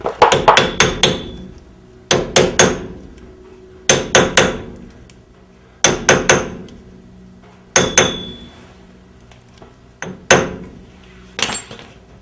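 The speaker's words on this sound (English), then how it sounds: "You just got to tap it on. Don't tap it from the center. Try and tap the corners of it." A hammer taps a dust cap onto the wheel hub of a Tri Five Pontiac during a disc brake conversion, in sharp metallic bursts of three or four quick blows separated by short pauses, close and loud.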